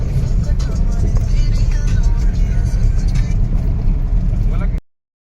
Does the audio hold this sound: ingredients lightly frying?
no